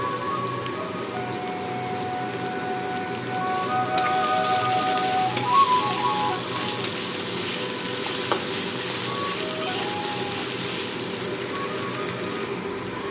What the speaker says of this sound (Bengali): পেঁয়াজটা যখন হালকা ভাজা হবে তখন আমি আলুটা দিয়ে দেবো।